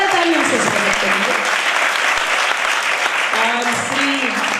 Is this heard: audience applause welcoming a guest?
yes